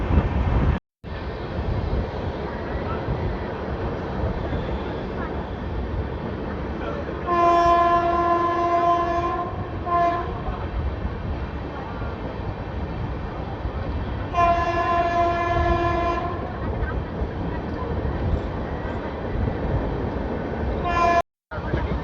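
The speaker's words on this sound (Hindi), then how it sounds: "सामने आ रही है 12497 शान पंजाब एक्सप्रेस नई दिल्ली अमृतसर" The 12497 Shan-e-Punjab Express from New Delhi to Amritsar rumbles past close by with steady rail noise, sounding two long, loud horn blasts a few seconds apart.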